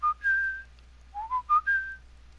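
A person whistles an eerie, wavering tune meant to mimic a mysterious night whistle, a few sliding notes rising and falling, close and clear over a low steady hum.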